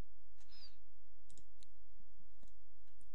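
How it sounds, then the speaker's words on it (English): Computer mouse clicking, a few sharp faint clicks scattered over a low steady hum, no talk. "We then right mouse click and view the properties"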